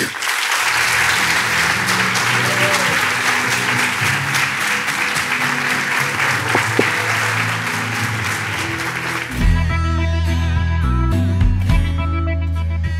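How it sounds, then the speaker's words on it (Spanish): Loud, sustained applause from an audience for Diego Golombek, a steady roar of clapping that cuts off abruptly into music at the start of a podcast. "Le damos un fuerte aplauso a Diego Golombek."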